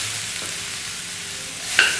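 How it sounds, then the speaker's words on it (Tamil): Boiled soya chunks are added to a frying pan and stirred for a meal maker fry. Steady sizzling runs throughout, with a brief scrape of stirring near the end. "இப்போ வந்து இந்த சோயா சங்க வேக வச்சதை இப்போ இதில் சேர்த்துடலாம்"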